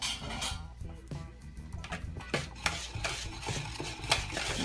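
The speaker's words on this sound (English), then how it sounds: "Mix all the dry ingredients together with a whisk or a fork or spoon" Flour and salt are mixed dry in a bowl with a whisk, fork or spoon, giving close, quiet, irregular scraping and tapping strokes against the bowl, with no talking.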